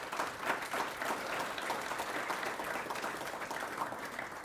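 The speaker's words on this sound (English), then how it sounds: "Let's give her a round of applause." A seated audience at an award ceremony applauds an award recipient, a steady wash of many hands clapping at moderate volume, even and continuous for several seconds.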